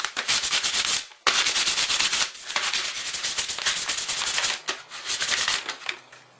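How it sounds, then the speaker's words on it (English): Light 240 grit sandpaper rubbed by hand over a coated radius bush part of a Nissan Patrol, loud close rasping strokes in quick continuous bursts with brief pauses, no talk. "So just use a light sandpaper. And let's use number 240 grit."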